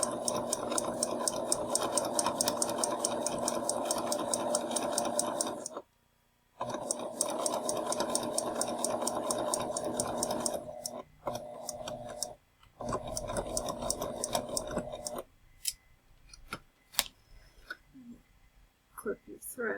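A sewing machine runs steadily as it stitches a seam, with long continuous bursts of rapid stitching, a brief pause, then shorter bursts and a few clicks as the machine backstitches, heard up close.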